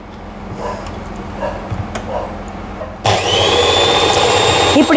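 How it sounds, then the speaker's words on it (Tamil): A hand blender whirs into an ice cream mixture with condensed milk, starting abruptly partway through and running steadily loud to the end after a stretch of quieter kitchen noise. "பிளெண்டர், அதில் பிளெண்ட் பண்ணுறேன்"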